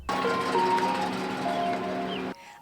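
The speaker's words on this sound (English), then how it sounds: "The sound of an ice cream truck driving through a neighborhood can be the most exciting part of any child's day." An ice cream truck rolls through a residential neighborhood, its bright tinkling jingle playing loud and steady over a low engine drone for a little over two seconds before cutting off abruptly.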